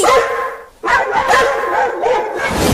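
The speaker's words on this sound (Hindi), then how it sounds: "तो भौंकना बंद करो और चलो उन्हें खाते हैं" Cartoon dogs bark in a loud, close series of yapping barks with slight whimpering tones. A short pause breaks the barking before it resumes.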